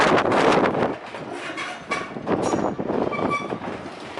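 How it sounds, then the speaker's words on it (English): Strong gusts sweeping across the steppe in the Altai Republic batter a car, a rough roaring rush of air that surges and eases in waves, close and loud with no voices. "The wind is just sweeping across the steppe."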